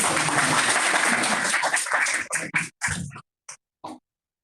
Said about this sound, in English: Now you are free to clap.